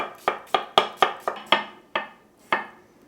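An English cucumber being sliced thinly by hand with a knife, giving a steady run of about eight crisp, close cuts, each a sharp tap onto the cutting board, with slightly wider gaps toward the end.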